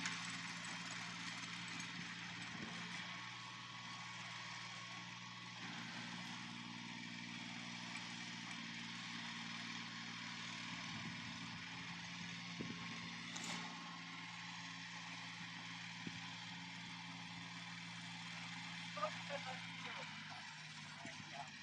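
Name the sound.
small tractor engine running under test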